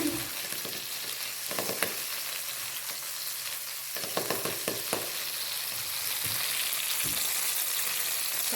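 Butter melts in a pan over medium heat, giving a steady close sizzle with a few scattered clicks and taps from the pan, and no one speaks.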